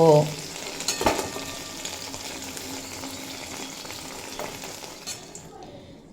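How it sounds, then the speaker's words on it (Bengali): Okra sizzles steadily in hot oil in a pan, with a clink of a utensil near the start and stirring noises, the frying close and continuous before fading out at the end. "ভেন্ডি চার পাঁচ মিনিট মতো ভেজে নেওয়া হয়ে গেছে"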